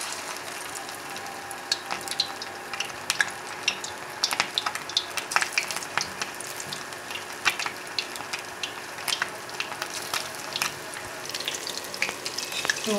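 Small fish coated in pakora batter fry in hot oil in a kadai, a dense, steady sizzle with scattered sharp crackles and pops that continues without a break throughout.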